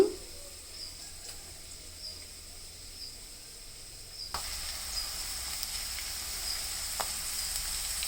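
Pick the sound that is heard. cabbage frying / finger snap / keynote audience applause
cabbage frying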